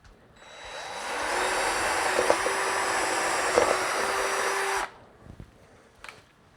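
A power drill runs steadily for about five seconds at a constant high whine, drilling a hole through a pole, close by, then stops, followed by a few faint clicks.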